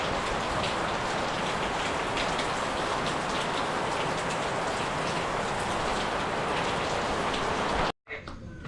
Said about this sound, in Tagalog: Ang ulan.